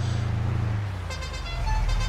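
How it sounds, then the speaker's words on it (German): A BMW M3 E30 coupé in Farming Simulator 22 sounds its musical horn playing La Cucaracha, a short run of bright tooted notes that rises over a low engine drone. "Aber eine coole Hupe hat er natürlich drin hier. La Cucaracha, muss man dazu auch noch sagen."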